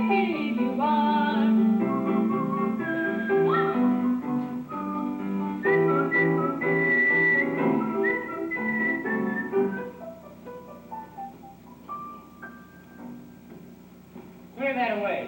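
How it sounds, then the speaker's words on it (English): People whistle a melody during a 1982 junior high school stage production of The King and I, with clear sustained notes that move through a tune and then trail off near the end. "Oh, were we whistling?"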